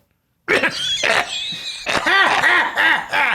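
A man's harsh, repeated coughing starts abruptly after a short silence and carries on in several loud, close bursts mixed with strained vocal sounds.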